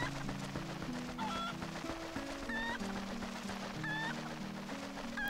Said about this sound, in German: Das ist doch bloß ein dummes Huhn.